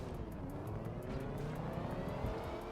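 A race car lapping Kyalami in Forza Motorsport, its engine droning steadily at high revs with a continuous, even roar throughout.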